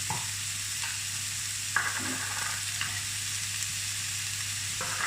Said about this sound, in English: So now we're going to add the frozen peas